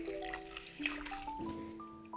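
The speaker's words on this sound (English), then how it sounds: "We're gonna pour until 3." Water poured into a seed planting tray, a steady trickling stream with rising ringing tones as the container fills, close and continuous.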